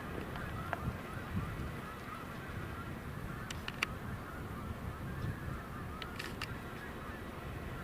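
Canada geese honk intermittently in the distance over a steady rumble of wind and ambient noise, the calls faint and scattered.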